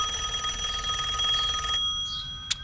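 A ringback tone plays during an outgoing cell phone call. It is a steady buzzy electronic ring that stops after almost two seconds. A short click follows.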